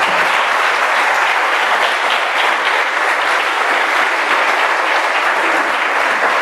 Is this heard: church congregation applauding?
yes